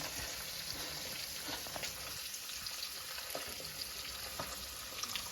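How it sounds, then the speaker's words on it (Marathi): Small fish frying in hot oil, a steady hissing sizzle with faint crackles throughout, fairly quiet and without voices. "हे बघा तळायला लागले"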